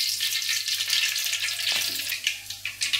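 Mustard seeds splutter and crackle in hot groundnut oil during the making of curry leaves rice, a steady close sizzle with a few sharper pops near the end.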